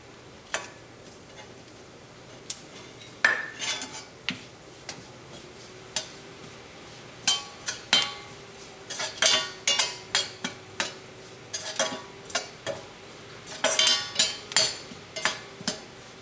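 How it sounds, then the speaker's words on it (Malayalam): A spoon scrapes and taps against a pan in irregular bursts of stirring chili powder as it roasts, with a faint sizzle underneath. "മുളക് നന്നായിട്ടൊന്ന് മൊരിയണ വരെ നന്നായിട്ടൊന്ന് ഇളക്കി കൊടുക്കാം"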